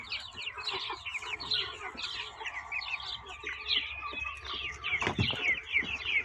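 Chicks and hens forage outdoors on a sunny, hot farmyard day, with a steady busy stream of high peeping chirps and scattered clucks throughout, plus a short louder burst near the end.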